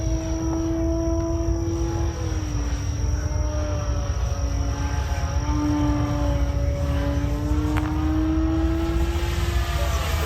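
An E-flite Turbo Timber RC high-wing plane flying overhead, a steady buzzing electric motor whine that shifts slightly in pitch as it passes, continuous and fairly loud with outdoor background noise.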